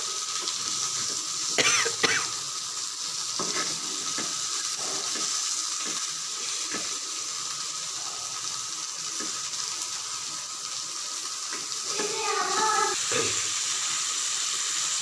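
Fish pieces fry in hot oil in a pan, a loud continuous sizzle with sharper spits and bursts each time a piece is lifted or turned.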